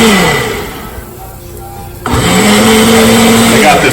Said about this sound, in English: So this is my Ninja. I'm gonna pulse this up in the Ninja.